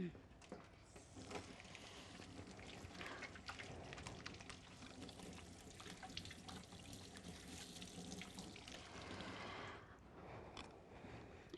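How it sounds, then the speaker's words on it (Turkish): Water runs steadily from a kitchen tap into a sink while hands are washed beneath it, a continuous close splashing rush throughout, with a voice speaking over it in places. "Ben ellerimi bir yıkayayım."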